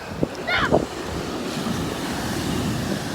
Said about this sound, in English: So, yeah, the waves are huge.